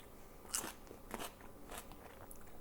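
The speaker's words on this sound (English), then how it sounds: "So I'm just gonna dip a radish in and give it a taste." A crunchy radish dipped in homemade salad dressing is bitten into once at close range, followed by a few crisp crunching chews spaced through a quiet background.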